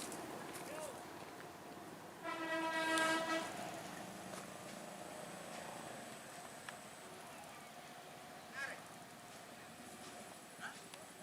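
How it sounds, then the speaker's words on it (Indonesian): Locomotive number 8 inspecting an overgrown lorry rail line near Kencong, where soil had covered the track, gives one horn blast of about a second over steady outdoor rumble, at moderate distance, with voices in the background. "sekarang lokomotif nomor 8 sudah hampir sampai di sekitar daerah Kencong"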